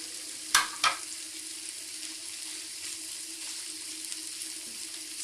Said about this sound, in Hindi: ये देखें जो मैंने मसाला भरा हुआ था भिंडियों में उनको अब मैं इसमें मिक्स करूंगी।